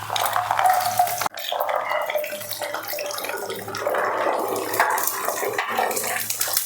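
Garlic cloves drop into hot oil for a garlic pickle, setting off a steady, close sizzle and crackle of frying after a sharp clatter.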